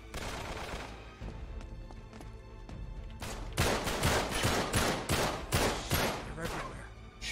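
Gunfire in Uncharted 3 crackles through a London Underground level: a busy backdrop of scattered shots for the first few seconds, then a run of loud, sharp, closely spaced bursts in the second half.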